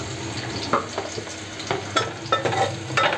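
Onion frying in a pan over a full gas flame with curry leaves, a steady hiss under a handful of sharp scraping stirs, close and moderately loud, no voices.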